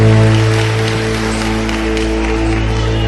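A church congregation applauds during a service, a steady wash of clapping held for the whole stretch beneath sustained musical tones.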